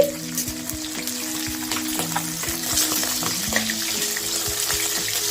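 A fish head frying in oil for a cabbage dish, crackling and spitting with sharp pops over a continuous sizzle, close and fairly loud, with occasional stirring.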